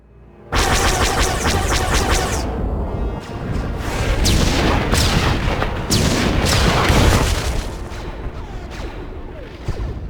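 A heavy orbital strike bombardment from the game Star Wars: The Old Republic, with loud booming blasts and crackling gunfire-like impacts rolling continuously for about ten seconds, large and close with no talk.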